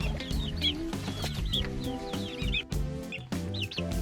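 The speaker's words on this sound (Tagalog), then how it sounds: "Pakain tayo guys sa ating sisiw." Close, steady chorus of high-pitched peeping from chicks at feeding time, with overlapping chirps, occasional low clucks and brief pauses.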